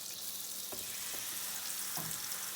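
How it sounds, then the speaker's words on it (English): Butter sizzles in a crepe pan, a soft, steady hiss punctuated by a couple of light scraping taps, quiet and close with no voices. "Just want to put some butter in your pan."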